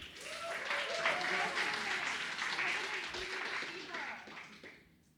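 Audience applause welcoming a speaker to the stage at a Fuckup Nights storytelling event in Toronto, a steady wash of clapping from a crowd that holds for several seconds, with some voices mixed in, then fades out near the end.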